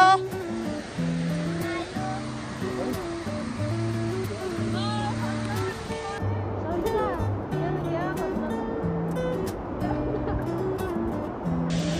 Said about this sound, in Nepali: हामी झरना पुगिसक्यौँ